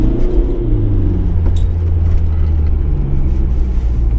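An Audi with a newly replaced automatic gearbox accelerates, its engine a loud, steady low rumble heard from inside the cabin, with the pitch drifting smoothly as speed builds.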